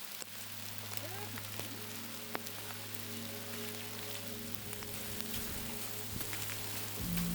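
Rain falling on a beach at Wineglass Bay on the Freycinet Peninsula, a dense steady patter close by with a low continuous hum underneath, building slightly louder at the end.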